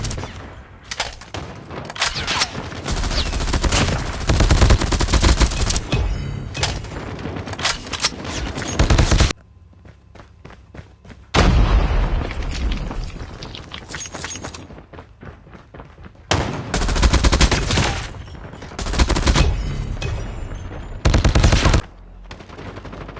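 Gunfire in Call of Duty Mobile during a Big Head Blizzard match, long rapid automatic bursts in loud sustained stretches broken by short quieter pauses, close and dense throughout.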